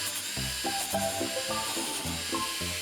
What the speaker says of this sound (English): I'm going to try out this 240 grit sandpaper on a piece of plyboard.